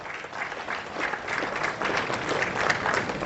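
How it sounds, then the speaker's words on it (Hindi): Audience applause at a government job fair in Dhanbad as a candidate comes forward to receive an appointment letter: brisk, dense clapping from a crowd that swells after a quieter start and holds steady, somewhat muffled and distant. "तालियों की गड़गड़ाहट से इनका स्वागत किया जाए।"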